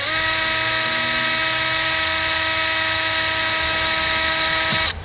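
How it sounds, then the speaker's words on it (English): Loud, steady whine of a power drill running continuously for several seconds, then cutting off abruptly near the end. "So I'm going to go ahead and drill this in, get a nice hole there started."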